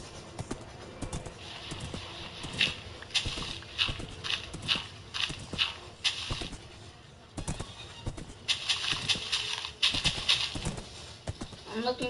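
Horse hooves clip-clop in the game Minecraft, a run of steady, fairly close steps with a couple of neighs, paused briefly midway, then resuming as someone talks over parts of it.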